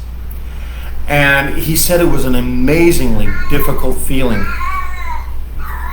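Several cats meow and caterwaul close by, their drawn-out wavering yowls rising and falling in long cries while a person talks over them.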